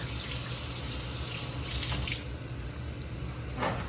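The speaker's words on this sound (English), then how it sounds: "You wash your hands a lot with these ribs." Running tap water at a kitchen sink while hands are washed during rib preparation, a faint steady splashing hiss with occasional brighter splashes.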